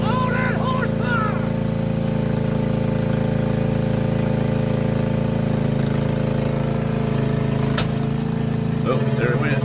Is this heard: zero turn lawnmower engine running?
yes